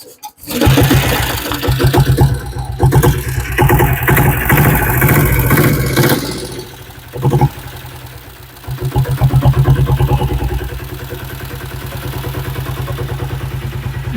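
A diesel Royal Enfield Bullet motorcycle engine sputters to life and settles into a steady, clattering idle, loud and close, briefly dropping before picking back up.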